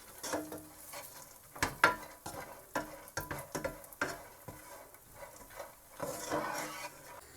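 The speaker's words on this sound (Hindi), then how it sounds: "इसमें किशमिश को भी हल्का सा सौते कर लेंगे" Raisins sizzle faintly in hot ghee in a pan, with occasional sharp scrapes and taps of a spoon stirring, quiet and close.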